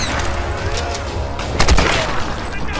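Gunshots from the video game Tomb Raider Definitive Edition, a dense loud fusillade with a heavy boom in the middle, over constant battle noise and a little talk.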